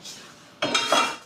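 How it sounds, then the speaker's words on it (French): A saucepan is picked up and handled in a home kitchen during tart preparation, giving a sudden close metallic clatter and scrape after a brief quiet start. "Voilà, j'ai une casserole."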